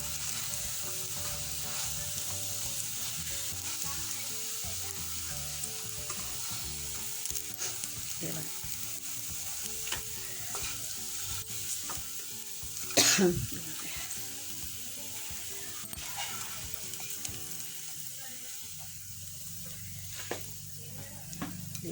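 Tikki snacks sizzle steadily as they fry in oil in a pan, a continuous close crackle with occasional stirring clicks and one brief louder clatter partway through.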